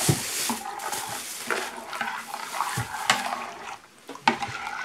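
A spoon stirs soda into a liquid, scraping around with irregular clinks and swishes, close by and moderately loud.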